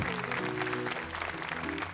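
A church congregation applauding its leaders, dense sustained clapping from many hands filling the room, steady and fairly loud from start to finish.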